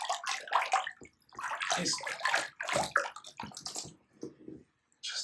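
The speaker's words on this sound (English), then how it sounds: "So I'm just going to go and turn on the heater and the pump. And as you can see, it's circulating." An aquarium pump and heater circulate water in a bucket during a freshwater aquarium water change, giving close, irregular sloshing and splashing bursts with a short lull near the end and a brief word of speech.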